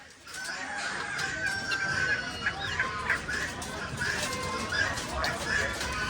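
Chickens and guinea fowl at a poultry auction, a busy mix of clucks and calls running steadily throughout, close and fairly loud, with people talking among the birds.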